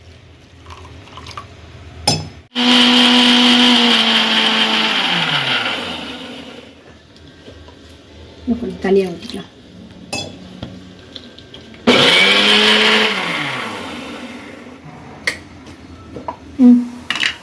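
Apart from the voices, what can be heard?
mixer grinder grinding spices with water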